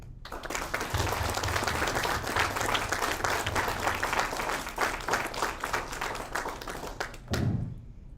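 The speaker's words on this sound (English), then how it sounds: "One last round of applause for the class of 2022" A graduation ceremony audience applauds the Year 13 class of 2022 at an international school, a long, full round of many hands clapping with a few heavier thumps, fairly distant and continuous before a brief trailing burst near the end.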